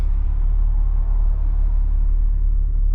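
A used van's 4.8 engine, leaking some oil, idles with a steady, low rumble close by, even and continuous with no voices.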